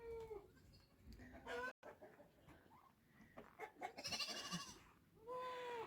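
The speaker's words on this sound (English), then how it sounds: "And all my chickens are waiting for some grain." Hens cluck and squawk close by in a busy barnyard, with a goat bleating and other farm animals calling over a steady outdoor background.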